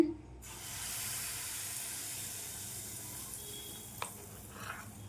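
Ladlefuls of wheat flour batter fry in hot oil with a soft, steady hiss that rises gently. A brief clatter of the ladle comes near the end, and the scene is quiet overall.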